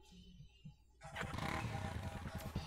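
Small toy-like motorcycle engine in the Nintendo Labo video game, quiet at first, then revving up loudly at one second and holding a steady buzzing drone to the end.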